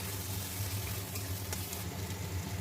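A spoonful of garlic paste goes into a spice mix frying in a pan for a jackfruit and potato curry, giving a steady, even sizzle over a low hum throughout.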